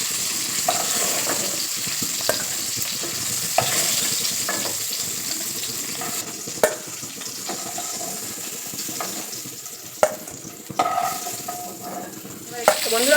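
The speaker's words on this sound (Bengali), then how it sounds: "এবারে আমি সমস্ত মাছগুলোকে উল্টে পাল্টে একটু হালকা করে ভেজে নেব।" Fish fry in a pan with a steady, close sizzle, broken by scattered sharp clicks and scrapes as the pieces are stirred and turned.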